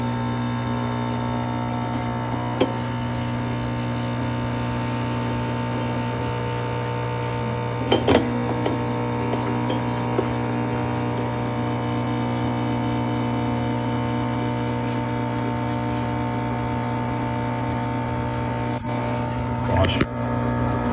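A Nespresso-clone coffee machine brews with a steady, loud pump hum and droning buzz that runs throughout, broken by a few sharp clicks and knocks, while a person talks over it.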